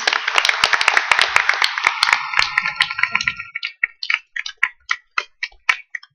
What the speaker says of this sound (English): I'd like to give a nice round of applause to Donna Blevins.